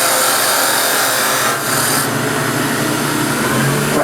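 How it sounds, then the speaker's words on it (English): A wood lathe turns a hollow wooden sphere at high speed, with a loud, continuous scraping and rasping cut that holds steady throughout, close up. "I'm going to speed the lathe up."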